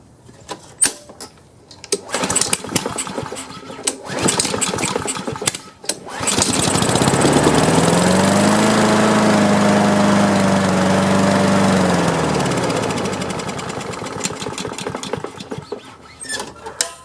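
A Craftsman lawn mower engine that needs carburetor cleaning cranks in rough bursts, then catches and runs loud and steady for several seconds before fading back to sputtering cranks.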